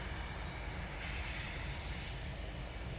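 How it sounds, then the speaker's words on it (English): GBRf class 66 diesel locomotive 66724 'Drax Power Station' departs at the head of freight train 4O19, heard as a faint, distant, continuous rumble of wagons with a brief rise in wheel squeal. "James's train is ready to leave at 5 AM"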